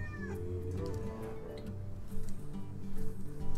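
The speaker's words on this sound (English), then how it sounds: "Here, I'll pet you now. It's your turn to meow." A pet cat named Despy meows several times in a row, close by and fairly loud, with drawn-out cries over a low household hum and no talking.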